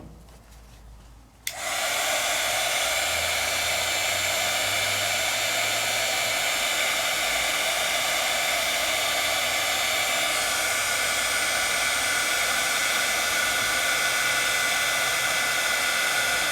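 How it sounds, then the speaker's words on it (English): A heat tool blows steadily to set embossing ink, switching on abruptly after a quiet moment and then holding a loud, even, hissing whoosh close by. "I know to move my heat tool"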